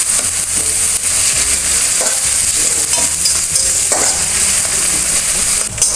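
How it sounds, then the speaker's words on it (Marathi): Onion stirred in hot oil for an egg curry, a constant loud sizzle broken by spoon scrapes and knocks against the pan as it is mixed. "आता ह्यात आपण कांदा घालून घेऊया। कांदा आपण थोडा मिक्स करून घेऊया।"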